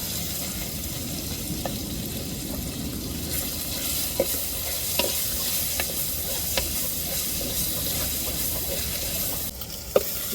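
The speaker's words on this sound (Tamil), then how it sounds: "இப்போ அம்மியில் அரைச்சி எடுத்து இஞ்சி பூண்டை சேர்த்துக்கிடுவோம்" Stone-ground ginger-garlic paste frying with tomato and onion in a goat-intestine curry: a dense, continuous sizzle and steamy hiss, close and fairly loud, with occasional light stirring taps.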